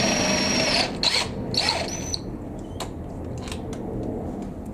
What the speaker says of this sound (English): Drill bit's in the drill.